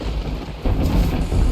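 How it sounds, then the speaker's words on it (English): Thunder in the video game Terraria, a loud, close rolling rumble that swells midway through, heard alone without talk. "And this thunder and lightning is very, very loud."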